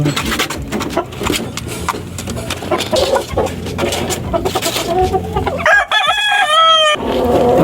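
Roosters crow loudly and repeatedly close by over a steady bed of clucking and chatter from a flock of chickens.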